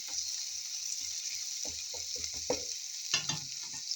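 Onions sautéing in a pan to a light brown for Filipino sarciadong bangus, a constant high hiss of frying under a series of close, irregular stirring clatters and scrapes, louder toward the end.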